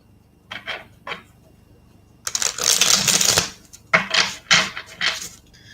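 Tarot cards shuffled up close: a few light riffles, then a long dense burst of snapping cards followed by several shorter shuffles.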